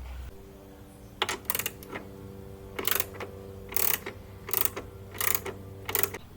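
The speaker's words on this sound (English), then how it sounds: "To tighten the bottom one, it is a number 10 size bit." Tightening the bottom screw on a HogWorkz Rushmore-style lower fairing on a Harley-Davidson with a number 10 bit produces about seven short bursts of close ratcheting clicks in an uneven rhythm, with no talking.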